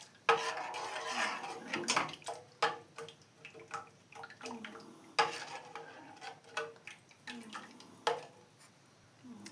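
A spoon stirs ragi kheer in a metal pot, giving irregular scraping and clinking knocks at close range with small gaps between strokes, and no talking.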